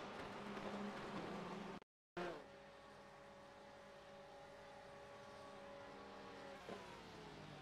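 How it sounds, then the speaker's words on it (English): Corvette race cars battling on a track pass by with a loud sustained engine roar, a brief dropout, then a steady higher-pitched whine as they drive away, with no talking. "We're watching Paul Skip and Brad McCombs, two Corvettes going at it"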